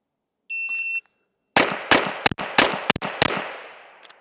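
At an outdoor shooting range, a shot timer beeps once, then after a short pause a handgun fires a rapid series of about eight loud, close shots with sharp cracks and echoing tails.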